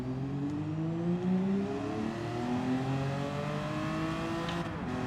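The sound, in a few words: car accelerating in second gear, Gran Turismo 7 video game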